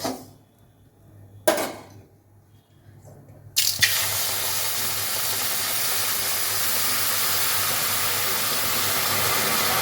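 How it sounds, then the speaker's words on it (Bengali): Water is poured into lightly fried mung dal in a pot, starting with a few clinks and a hiss, then a steady loud rushing pour that continues to the end, close and without speech. "এবার আমি জল দিয়ে দেবো"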